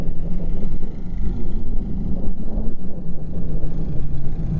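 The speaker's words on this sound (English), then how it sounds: "Looks like we're gonna get passed by a golf cart here. Nope, four-wheeler." A four-wheeler drives past at a campground packed with parked vehicles, its engine making a steady low rumble that holds near and fairly loud for several seconds.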